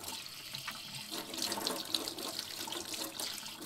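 Water runs steadily from a tap into a sink inside an RPG Maker horror video game, a continuous moderate splashing stream lasting throughout, heard alone with no talk.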